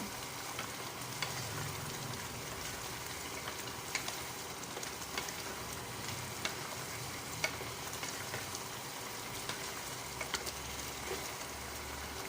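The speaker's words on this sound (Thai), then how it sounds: "เราจะสังเกต น้ำหมูหวานนะคะ มันจะเป็นเดือดแบบฟองโตๆอย่างนี้นะคะ" Sweet pork syrup boils and thickens in a pot, giving a steady low bubbling with scattered small pops from big bursting bubbles. The sound is fairly quiet and continuous, with no talking.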